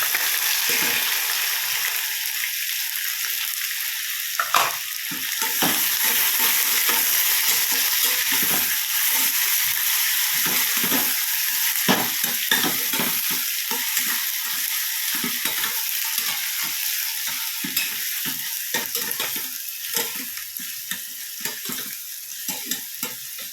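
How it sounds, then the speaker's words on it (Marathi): Onion sautéing with fried peanuts in a pan, a steady bright sizzle under repeated scraping and stirring strokes of a spatula, close and fairly loud, with no voices. "कांदा थोडासा परतू द्यावा लागेल"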